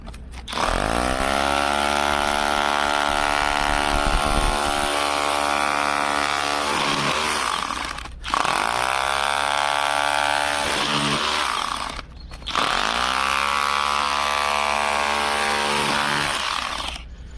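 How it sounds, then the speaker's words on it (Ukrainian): A loud Ronix 8910K 20V brushless cordless rotary hammer chisels in three long, continuous runs, its harsh motor whine broken by brief pauses. "А тепер перевіримо лопатку та відбійний молоток."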